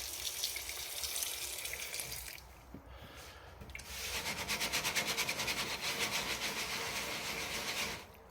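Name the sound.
rinsing fermented coffee beans in water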